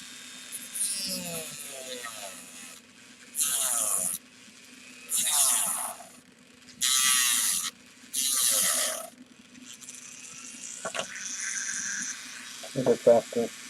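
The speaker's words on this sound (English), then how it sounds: "Got my Dremel set up with my sander." A Dremel rotary tool with a sanding attachment grinds a plastic Star Wars FN-2187 helmet at a low setting of about 2,000 RPM, in four loud, close, abrasive bursts of roughly a second each, separated by quieter stretches with faint talk.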